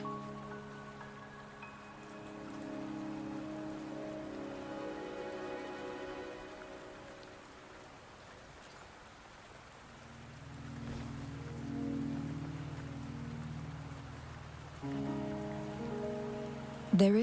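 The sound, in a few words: rain in a video game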